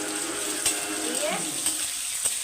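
Papaya, potato and radish frying for Bengali sukto, with a steady close sizzle and a few sharp clinks of a spatula stirring the pan.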